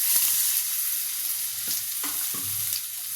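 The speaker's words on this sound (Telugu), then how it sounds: "అవి వేడయ్యాక ఆలుగడ్డ వేస్తున్నా." Potatoes frying in hot oil with mustard seeds and cumin for a potato fry, giving a steady, close sizzle with a few soft knocks of a spatula and no voices.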